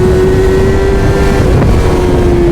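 Honda 600 Hornet 2011 motorcycle accelerating, a steady loud engine drone with a constant tone and heavy wind rush over the microphone throughout.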